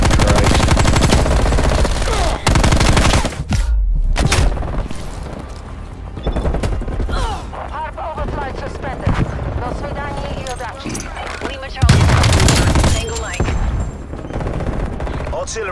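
Hostile sentry turrets in Call of Duty: Black Ops Cold War firing loud, sustained automatic bursts, with dense overlapping gunfire and booming impacts that run almost without pause, while speech cuts through at moments.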